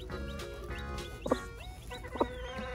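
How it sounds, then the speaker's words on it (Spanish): High, thin chirping peeps from a newly hatched chick, a few sharp calls standing out over a low, steady background hum, close by. "Se escucha otro pollito."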